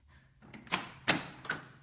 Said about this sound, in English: Could you open the door, please, Mrs. Decker?